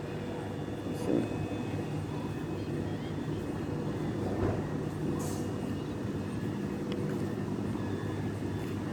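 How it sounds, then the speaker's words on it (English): A Hampton-bound passenger train approaching a station at Southwick, heard as a steady low rumble that holds throughout, with a couple of faint louder thumps. "Hampton train should be here."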